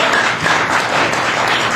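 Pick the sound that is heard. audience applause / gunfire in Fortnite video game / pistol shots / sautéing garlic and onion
audience applause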